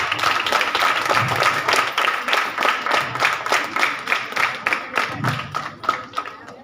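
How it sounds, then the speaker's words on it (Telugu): An audience at a school prize giving at a B.R. Ambedkar Gurukul school claps in a steady, fairly even rhythm, moderately loud and continuous, with some voices faintly underneath. "clap everyone, clap"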